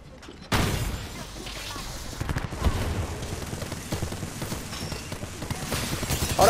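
Gunfire in a ranked competitive video game match, a sudden loud burst followed by continuing scattered shots and rattling impacts at mid distance while players talk over it.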